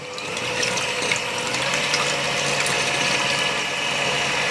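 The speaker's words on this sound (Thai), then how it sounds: "นำไข่ขาวนะคะ ใส่ลงไปในชามผสมแบบนี้นะคะแล้วก็เริ่มตีให้เป็นโฟมก่อน" An electric mixer whips egg whites into foam in a mixing bowl for green tea macarons, a steady whirring buzz with fine rattling clicks that runs continuously and fairly loudly, with no talking.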